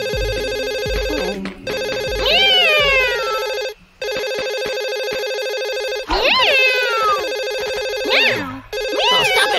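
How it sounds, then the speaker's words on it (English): A telephone rings in the Boonie Bears cartoon, a loud, steady electronic trill in long bursts broken by brief gaps, with squeaky sliding cartoon vocal sounds cutting across it. "I can hear the phone."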